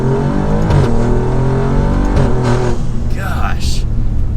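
A tuned 600 HP Alfa Romeo Giulia Quadrifoglio accelerating hard in first gear: a loud, close engine roar climbing in pitch, then easing off as the revs drop.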